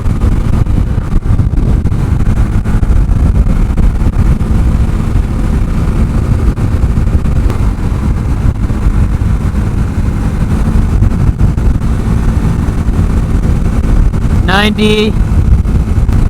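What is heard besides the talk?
Honda Grom motorcycle riding at top speed on highway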